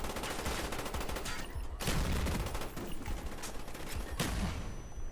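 Rapid bursts of automatic gunfire from a first-person shooter game, dense and continuous with brief pauses between volleys, loud and up close.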